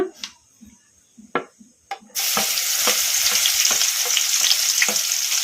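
After a few quiet knocks and taps in the pan, crushed garlic drops into hot oil with lentils over a medium flame and bursts into a loud, continuous sizzle, with occasional stirring clicks.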